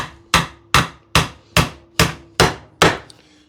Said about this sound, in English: going to hammer in a couple of small finishing nails